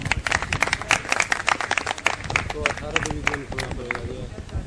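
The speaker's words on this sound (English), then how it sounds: "A round of applause, please" An audience at an International PolioPlus Committee gathering breaks into clapping that runs for several seconds, dense and close, while voices talk over it.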